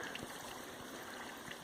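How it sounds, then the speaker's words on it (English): Groundwater trickles steadily out of a quarter-sized hole in a clay bank inside a dug trench, a soft, continuous, close-up babble and dribble with no voices. "water always pouring out of it"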